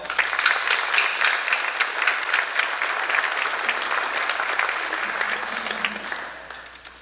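An audience at the Long Island Air & Space Hall of Fame 2024 ceremony, held beneath a suspended plane in a museum, applauds to welcome a speaker: dense, steady clapping that carries on for several seconds before tapering off near the end.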